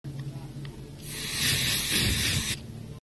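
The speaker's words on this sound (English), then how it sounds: "now I'm just going to do my sprays." An aerosol body spray or perfume is sprayed in one steady hiss lasting about a second and a half, close and loud, with faint household background before and after.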